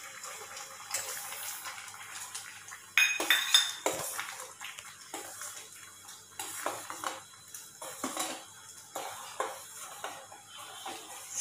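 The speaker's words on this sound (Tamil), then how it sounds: "சேர்த்து நல்லா கலரி விட்டு" Vermicelli and sago milk payasam being stirred in a metal pot after sugar goes in, with scraping and clinking of a utensil against the pot in irregular strokes, fairly faint with a watery swish.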